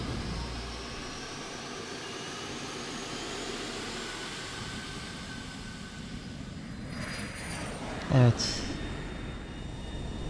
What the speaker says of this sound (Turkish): Bu uçak çok büyük ya.